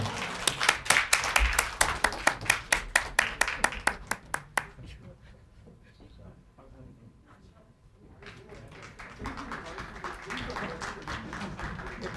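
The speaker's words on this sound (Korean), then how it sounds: "뜨거운 박수 부탁드리겠습니다." An audience at an alumni association general meeting and awards ceremony claps in a loud, rhythmic burst of individual claps, then fades into quieter room noise and murmuring voices before applause swells again.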